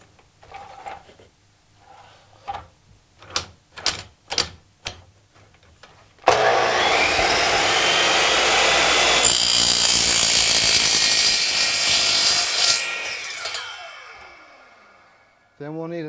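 A metal channel piece is cut with a power saw: a few sharp taps come first, then a loud, sustained grinding cut runs about seven seconds before fading as the blade spins down.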